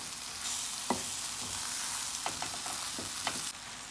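Eddoes and baigan fry in a pot for a Guyanese curry, giving a steady close sizzle with a few sharp stirring scrapes and clinks over it.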